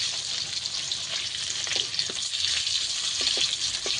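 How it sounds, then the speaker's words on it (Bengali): Pieces of fish frying in a pan of hot oil, a constant crackling sizzle with brief pops and clinks as the pieces are stirred or turned, close and steady throughout. "প্রথমে আমি এই মাছ কটা ভেজে নেবো পরে আবার আবারও সব মাছ ভেজে নেব"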